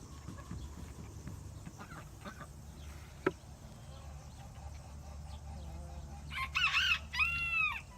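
Outdoor ambience with a low hum, then a rooster crows loudly near the end, a short strained call following it.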